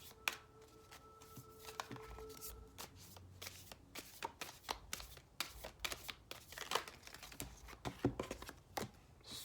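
Soul Coaching Oracle cards being shuffled by hand, a dense run of close, crisp riffling and slapping bursts with rapid irregular rhythm, alone without talk.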